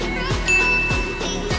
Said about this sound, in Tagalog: i-ring nyo na din yung bell pang ganito